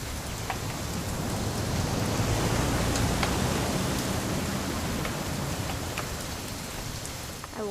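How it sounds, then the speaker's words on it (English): Heavy, steady rain pours down in What Remains of Edith Finch, a dense even hiss filling the whole stretch with occasional distinct drips, and no voices. "It's gonna rain the whole weekend"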